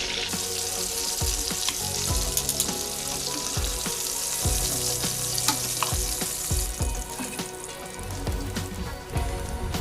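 Chicken and rice for a one-pot arroz con pollo risotto sizzle steadily in a pot, a dense close frying hiss broken by scattered clinks and knocks, with no talking.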